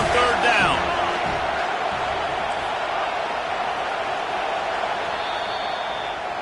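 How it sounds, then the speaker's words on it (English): A stadium crowd roaring for the defense on third down in a football game, a steady, dense wall of cheering that holds throughout, with a commentator's voice over it. "Decibels rising as the crowd gets behind this defense on 3rd down"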